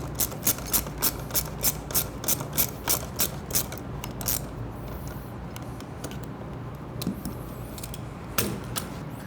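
A ratchet clicks in a fast, steady rhythm as M8 screws of a Competition Werkes license plate relocation kit for a Ducati Scrambler are tightened, close up, followed by slower, scattered clicks and faint handling noises.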